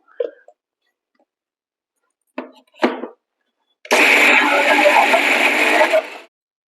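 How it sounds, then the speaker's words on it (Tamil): A mixer grinder coarsely grinds soaked lentils for Karaikudi paruppu urundai kuzhambu: a few short clunks and pulses, then a loud steady whir running for about two and a half seconds before stopping. "இப்போ நம்ம இதை கொஞ்சம் கொர கொரப்பாக அரைச்சி எடுத்துக்க போகிறோம்"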